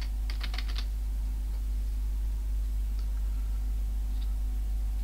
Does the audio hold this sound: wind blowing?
no